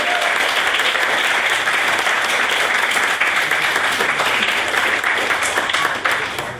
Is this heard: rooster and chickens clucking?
no